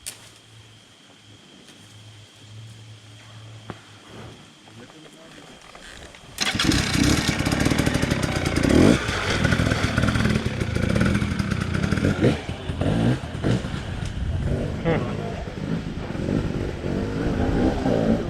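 A dirt motorcycle on a field-and-forest course sits idling quietly at first. Then it bursts into loud, close engine roar with repeated throttle blips and revving, the pitch rising and falling for the rest of the clip.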